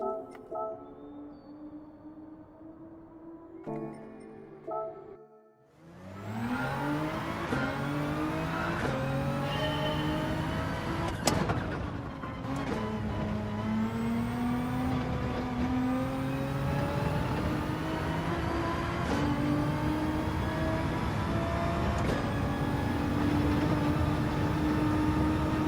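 A Nissan GT-R race car engine in Gran Turismo 7 revs briefly, then roars continuously through rising gear changes with loud upshift steps and steady high-pitched engine tone, close and sustained throughout.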